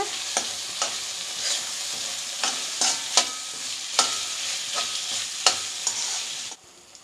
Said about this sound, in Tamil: இதை நல்லா ஃப்ரை பண்ணிக்கோங்க